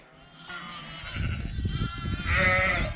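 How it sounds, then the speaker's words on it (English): Sheep and lambs bleat in open spring fields in the Brecon Beacons, several overlapping calls rising louder toward the end, close and clear. "All the sheep and the lambs are out."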